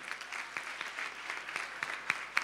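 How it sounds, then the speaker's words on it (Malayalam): An audience at a prize ceremony in the UAE applauding a winning team, a dense, fairly distant patter of many hands clapping steadily throughout. "and give A big clap for them"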